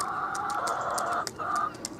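Marans hens cluck softly and continuously at close range, with short, repeated calls over a steady backyard background.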